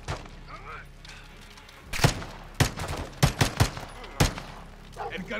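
Gunfire in Call of Duty: Modern Warfare II as a magazine is emptied: several sharp, loud shots in an irregular burst, separated by short gaps, with quieter game ambience between them.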